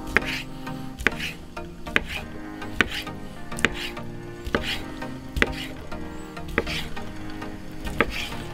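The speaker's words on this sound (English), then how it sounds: "So our sausage, we just wanna do a rough cut on them." A knife rough-chops Italian sausage on a cutting board, with about a dozen evenly spaced crisp thuds, close and moderately loud, over a faint kitchen background.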